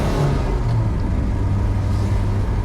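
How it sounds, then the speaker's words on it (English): A Porsche 944 engine revs in a raw, rumbling drone close by, its low harmonic tone rising and holding steady across the stretch with no talking over it. "as soon as you get the engine revving, you are reminded that this is a very raw car"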